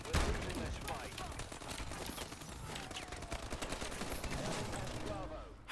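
Gunfire in a Call of Duty: Advanced Warfare match, fairly faint cracks and bursts scattered across the clip among other battle noise, with a sharp shot right at the start.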